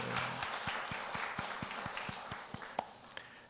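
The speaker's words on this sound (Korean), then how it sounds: "축복의 박수 하겠습니다." A church congregation at a Sunday service gives a brief round of applause, with scattered clapping and a few distinct, evenly spaced claps standing out at moderate volume before it trails off.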